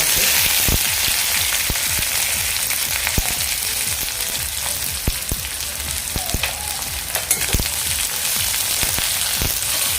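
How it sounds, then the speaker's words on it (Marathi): Onion and curry leaves sizzling loudly in hot oil with popped mustard and cumin seeds, a dense continuous crackle with sharp spattering pops throughout, close up and no voices. "आता मी कांदा आणि कढीपत्ता घालते"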